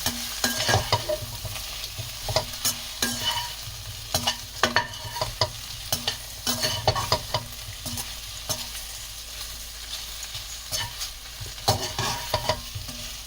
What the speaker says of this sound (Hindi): अब इन सब मसालों को हम पहले इसमें अच्छे से मिक्स करेंगे।